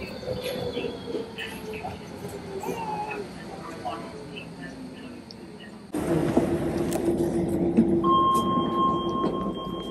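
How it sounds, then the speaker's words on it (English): A DLR train in London rumbles past nearby, its steady roar rising partway through with a tonal whine, while people talk over it. "It is a train, it's a DLR train."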